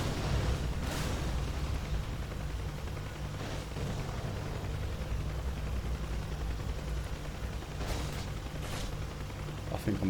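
Rocket fire from a Huey helicopter in the DCS flight simulator booms in several spaced bursts over a constant loud rotor and engine roar.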